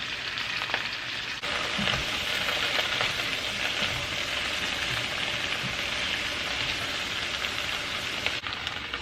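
Cabbage dropped into a hot frying pan and stirred, a loud steady sizzle with scraping and rustling stirs throughout, close and continuous.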